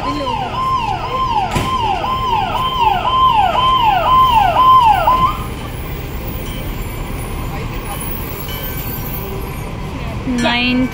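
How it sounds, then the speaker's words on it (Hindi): A fire engine's loud wailing emergency siren cycles rapidly up and down for several seconds, then cuts off, leaving engine and street noise, during a major fire at Dilli Haat market, INA, Delhi. "एक फायर ब्रिगेड की गाड़ी जा रही है, दूसरी आ रही है"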